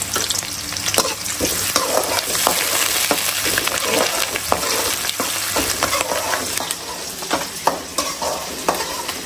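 Onions and curry leaves fry in hot oil in a pan, a loud, continuous close sizzle with frequent stirring scrapes and small pops running the whole time, no voices.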